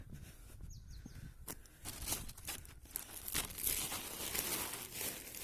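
Plastic crinkles and rustles in irregular bursts, close by and moderately loud, with some tearing-like crackles.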